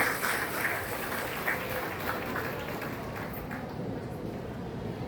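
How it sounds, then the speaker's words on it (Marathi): Audience at a Women's Day event breaks into sustained applause, a broad, even wash of clapping that fades slightly over several seconds with faint voices underneath. "एकदा जोरदार टाळ्या त्यांच्यासाठी छान पाहिजे."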